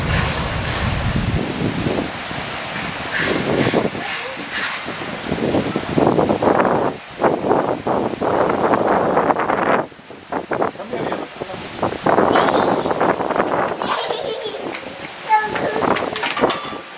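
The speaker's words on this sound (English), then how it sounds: "It's a lot of wind, look at the wind." Strong wind gusts during heavy rain in Silivri, Turkey, buffeting the microphone in loud, uneven rumbling bursts with brief lulls, while people talk over it.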